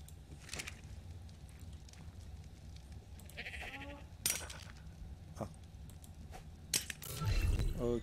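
A sheep in the video game ARK: The Island gives a short wavering bleat midway, amid scattered game clicks and thumps and a low rumble at the end.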